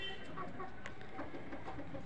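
Native Gavrani chickens, including a red rooster, give soft, scattered clucks at a fair distance over a steady, faint background noise.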